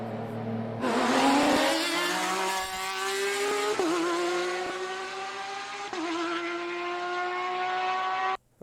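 A car engine revs hard and loud, pitch climbing steadily with brief dips at gear changes, sounding bright and raspy rather than deep and low, heard close and alone without talk.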